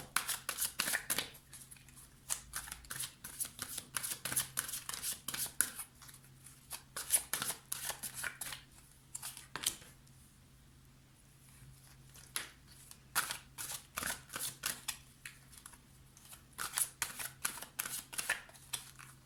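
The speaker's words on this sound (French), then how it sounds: "Je vais recouvrir les cartes pour avoir plus de précision." Tarot cards are gathered and shuffled in repeated bursts of crisp riffling and slapping, close and fairly quiet, with short pauses between rounds.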